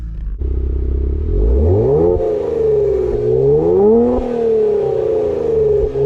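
A 2023 Kia Stinger GT2 fired up with its push-button start: a short starter crank, then the engine catches and swells into a loud rev before easing into a steady, rising-and-falling idle close by.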